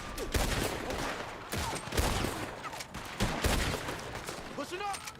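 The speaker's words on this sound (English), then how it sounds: "He's going for the Gatling. Look out, he's firing." Gatling gun fire in Red Dead Redemption 2 at a big house with a veranda, rapid bursts of sharp repeated shots in several volleys over a busy noisy battle background.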